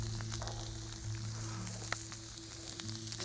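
Food sizzles steadily on a Vulcanus grill, a constant crackling hiss with small pops, close and even throughout with no talking.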